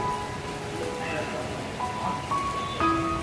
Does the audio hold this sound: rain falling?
yes